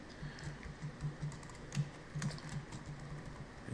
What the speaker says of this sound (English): we're going to type in Adventure Travail